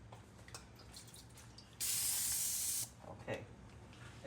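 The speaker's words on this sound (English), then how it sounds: "I'm just gonna spray these." A short single blast from a cooking spray can in a kitchen, a loud steady hiss lasting about a second amid quiet background clatter.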